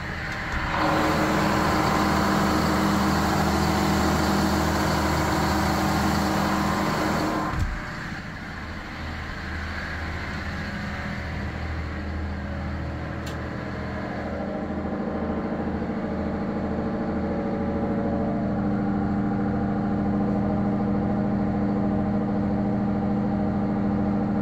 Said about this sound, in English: Go start the port side engine.